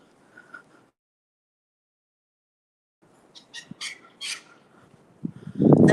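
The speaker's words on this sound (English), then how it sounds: "That bird that we can hear is a wattlebird." A wattlebird calls near a house, letting out a short burst of harsh, scratchy chirps after a quiet stretch, followed by nearby rustling and a thump.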